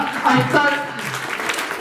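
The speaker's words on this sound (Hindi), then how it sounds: "एक बार तालियां।" A hall audience applauds at a women's welfare committee event in India, steady clapping of a crowd throughout with a voice speaking over the start.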